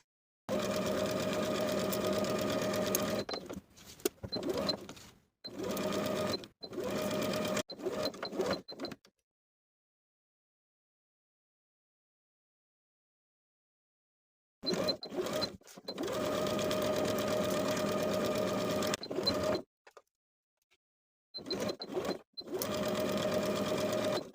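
A home sewing machine stitches a dress collar seam with a 3/8 inch allowance, running in loud steady bursts of rapid mechanical whirring separated by stops and a long pause.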